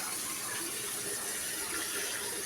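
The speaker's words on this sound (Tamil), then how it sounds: "எங்கள் அம்மா தோட்டத்துக்கு தண்ணி ஊற்றுறாங்க." Steady broadband rush of water poured or running from a tap onto a home garden with betel vine and money plants, continuous and fairly close, with no voices.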